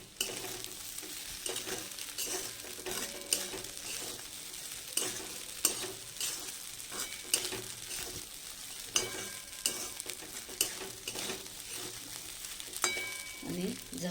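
Sabudana khichdi is stirred in a frying pan, with a steady sizzle of frying and repeated scraping strokes that come at a regular rhythm, close and moderately loud, and no talking.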